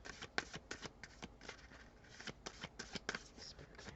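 Tarot cards shuffled close up and quietly, making soft, irregular flicks and slaps with brief pauses, as one more card is drawn.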